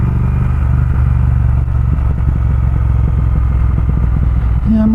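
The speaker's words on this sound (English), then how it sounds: "Engine's perfectly happy going down this gradient" A Triumph Speed Twin motorcycle engine runs steadily while coasting down a gradient, a continuous low rumble with light mechanical clatter, close and loud throughout, ending in a brief higher tone.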